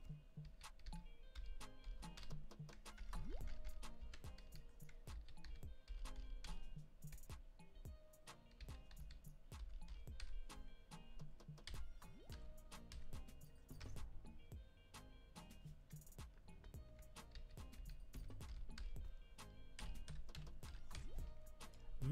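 Username and password being typed on a computer keyboard: steady, faint clicking keystrokes running continuously at an uneven pace, close by and alone.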